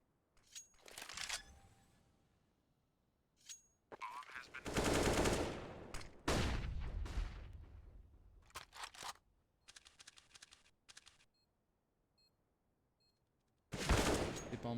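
Gunfire bursts in a Counter-Strike match on the dust2 map, played as a professional esports game: several loud rapid-fire volleys come in clusters separated by short quiet gaps, with faint clicks between them.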